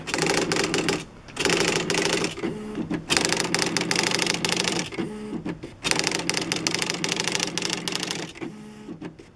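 A 1985 Smith Corona electronic typewriter printing: loud, close bursts of rapid mechanical clatter separated by short pauses, with a repeating whirring carriage movement between lines.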